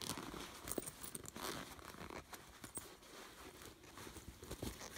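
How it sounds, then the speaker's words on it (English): A zipper closes the small front pocket of a Betsey Johnson crossbody bag, with quick, close rasping pulls and light crinkling, quiet and alone. "Just zips up like that."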